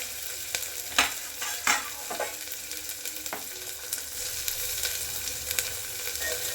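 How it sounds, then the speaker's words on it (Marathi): Mixed vegetables, cauliflower and potato among them, sauté in oil for pulao rice with a steady close sizzle, punctuated by a few sharp spatula knocks and scrapes. "चांगलं परतून घ्यायचं तेल"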